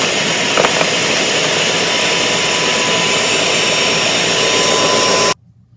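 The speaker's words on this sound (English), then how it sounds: "So put them all in there, put on the lid, and blend it for about 60 seconds or so" A blender whirs steadily at high speed while pureeing raspberries and blackberries into a tropical berry smoothie, a loud continuous roar running for about five seconds before cutting off abruptly to near silence.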